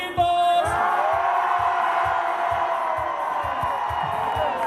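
A crowd at a Valencian falla shouting and cheering together, a loud sustained roar of voices with whoops throughout, near and dense.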